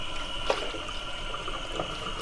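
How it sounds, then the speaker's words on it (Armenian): A kitchen tap runs steadily over a whole boiled cabbage as its leaves are rinsed for tolma, giving a soft, constant hiss of flowing water with a couple of small splashes. "Կաղամբը արդեն խաշված է, հիմա հոսող ջրի տակ լվանում եմ"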